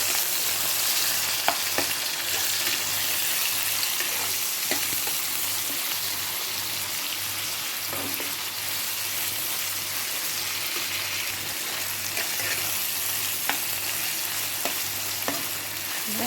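Prawns and onions fry together in a pan, giving a steady, close sizzle with scattered light pops and spatters throughout. No one speaks.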